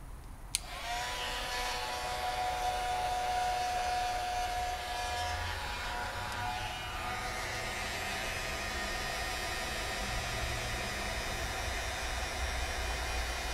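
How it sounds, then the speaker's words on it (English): A heat embossing tool blows steady hot air to melt embossing powder, a continuous close whooshing fan hiss with a faint whine, running unbroken throughout. "Now I'm going to get my heat embossing tool and heat that up."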